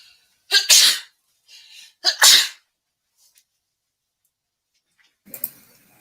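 Two loud, sharp sneezes burst out close by in quick succession, followed by quiet and a faint trailing breathy sound.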